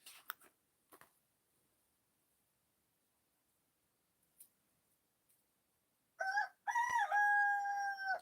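A rooster crowing near at hand, one loud drawn-out call near the end after a mostly quiet stretch with a few faint knocks.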